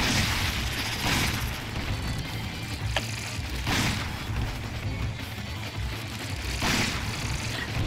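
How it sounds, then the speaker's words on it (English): Three muffled booming shots go off a few seconds apart, far off, over a dull, constant background rumble, in the video game Resident Evil 5 on PC. "I can hear gunfire."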